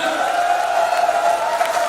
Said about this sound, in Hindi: तो पहले तो धर्मेंद्री के लिए एक जबरदस्त तालियां हो जाए